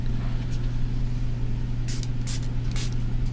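Fruit-scented spray mist from a small bottle, several short hissing bursts over a steady low hum, close to the microphone.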